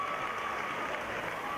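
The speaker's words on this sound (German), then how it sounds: "Mit dem Dezibelmesser wurde das Klatschen gemessen" Audience applause at a show dance competition in Burghausen, clapping loudly to vote for the audience prize; dense, steady clapping throughout, with no voices standing out.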